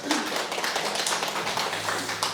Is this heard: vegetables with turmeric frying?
no